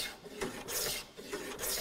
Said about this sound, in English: smoothing plane just to take off any high spots left from the handsaw